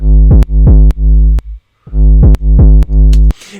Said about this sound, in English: here is the sound of the bass that we are going to make